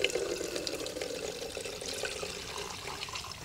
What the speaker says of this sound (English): I have even amounts of gasoline here that I'm gonna pour up into the top here. And then this will flow through the fuel filter due to gravity